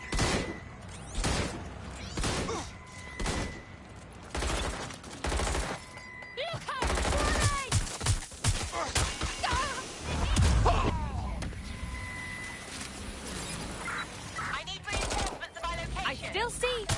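Gunfire from a shooting suspect in a police video game rattles off in sharp, loud bursts and volleys across the scene, with shouting voices in between and under the shots.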